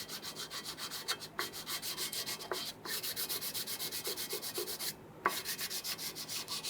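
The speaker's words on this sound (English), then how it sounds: "if you use a flat piece of wood and gently work on that, you want to make sure that you get rid of that old gasket material" A flat piece of wood scraping old gasket material off the intake manifold mating surface of a 1994-2004 Ford Mustang 3.8, with steady rhythmic back-and-forth rubbing strokes, close and fairly loud, briefly pausing twice.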